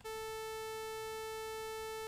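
Steady band-limited sawtooth synth tone at 440 Hz, a bright buzzy pitch with evenly stacked harmonics, sustained alone at constant loudness for about two seconds.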